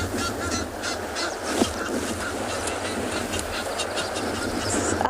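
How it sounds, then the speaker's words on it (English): Male Egyptian geese fighting at a penguin beach give honking calls, several short bursts scattered through a steady noisy outdoor background with water and wind, moderately distant. "He's fighting with another male Egyptian goose, and the chicks are now going to join in."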